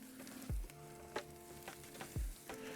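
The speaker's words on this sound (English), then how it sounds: "Just going to throw these on here. Listen to that sizzle," Lamb chops sizzle on a hot grill, with a steady crackling hiss broken by a couple of sharp clanks and thuds.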